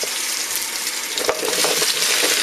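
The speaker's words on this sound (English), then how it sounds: "So after 5 minutes of sauteing" Vegetables sauteing in a soup pot, a steady close sizzle and crackle of frying with a few scraping stirs, building slightly louder toward the end, no voices.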